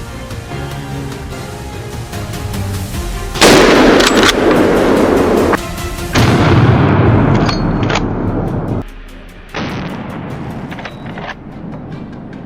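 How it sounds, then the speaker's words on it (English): Rifle gunshots during a wild boar hunt on Texas farmland, heard as a few sharp reports with booming tails over continuous outdoor background noise, no talking. "The shot rang out sharp and true, the bullet finding its mark and bringing down the troublemaker."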